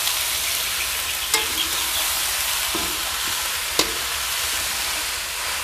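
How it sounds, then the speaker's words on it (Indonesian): Papaya flowers and boiled, washed leaves are stir-fried in a pan, giving a steady close sizzle with a couple of sharp scraping stirs and no talking. "langsung kita masukkan bunga pepaya dan daun yang sudah kita rebus dan cuci bersih ya, teman-teman. Terus kita tumis-tumis."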